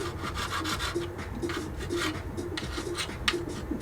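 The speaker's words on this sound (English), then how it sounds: "Taking off my nice chrome that I had on the bumper" Chrome is scraped and rubbed off the bumper of a 1/20 AMT Toyota 4x4 pickup model, a close, steady rasping with repeated back-and-forth strokes.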